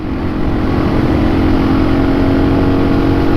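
A dual-sport motorcycle, either a Suzuki DRZ400S or a Honda CRF300L Rally, accelerates with the throttle opened, giving a loud, steady engine drone heard close and alone.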